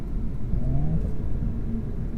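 A 2017 Audi S4 engine pulls under acceleration as a steady, close low rumble with a faint rising whine, heard from inside the car with no talking.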